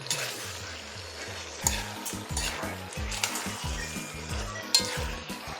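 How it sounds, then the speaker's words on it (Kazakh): Food frying in oil in a pan, a steady sizzle with repeated clinks and scrapes of a utensil stirring, close and alone without talk. "майға қуырып аламыз"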